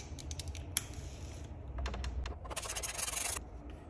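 Small T10 Torx screwdriver working screws on an Audi S4 instrument cluster, giving soft close scratchy clicks and grinding turns in short bursts, with quiet pauses between them.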